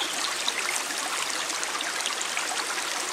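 A cold woodland stream flows steadily, a dense, even rushing and splashing of water close by with no pauses and no voices.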